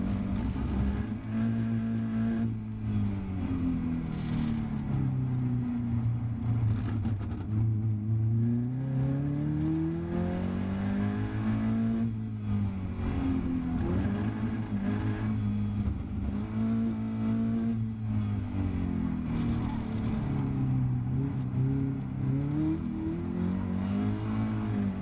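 A Caterham race car screams up and down through the gears on its final sprint at the Curborough sprint course, a loud continuous engine howl with rising and falling pitch, heard from on board and without speech.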